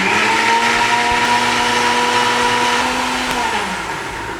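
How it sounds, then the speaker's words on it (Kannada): A mixer grinder whirring loudly as it grinds a paste, a steady close motor whine holding its pitch and then dropping as it slows near the end, with no voices. "ಅಷ್ಟರ ತನಕ ನಾವಿದು ರುಬ್ಕೊಳ್ಳೋಣ."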